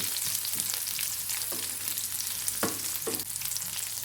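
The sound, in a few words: garlic and shallots sautéing in a pan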